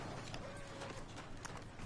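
Steady hoofbeats of a horse clip-clopping in Red Dead Redemption 2, a soft, continuous trotting rhythm heard at a distance with no talking over it.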